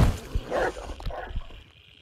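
A dog yips and whimpers in short bursts, close by, with a few uneven cries that fade toward the end.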